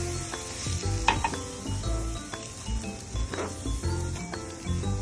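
Sugar caramelizing on a full flame for masala milk gives a steady close sizzle and frying hiss, with a few light clinks and stirring scrapes scattered through.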